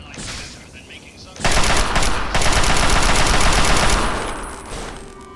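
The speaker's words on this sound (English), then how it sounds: "I guess it's the Chinese assault rifle" A Chinese assault rifle in Fallout 3 fires a loud, sustained automatic burst of rapid gunshots that runs for several seconds before tapering off.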